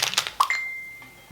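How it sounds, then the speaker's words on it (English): A mobile phone gives a short, bright electronic notification beep, preceded by a few soft clicks, in a quiet room. "Excuse that phone going crazy."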